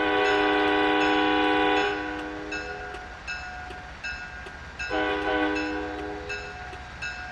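A diesel locomotive horn in the Train Sim World 3 game sounds twice, a loud sustained chord of nearly two seconds and then a shorter blast, with rumbling rail noise between them and no talk.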